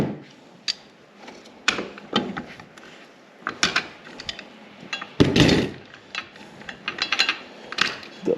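A part is unscrewed while Boonedox Groovy landing gear is fitted to an NRS Kuda 126 kayak. Scattered close clicks, taps and small rattles come in uneven bursts, with a louder clatter midway and no talking.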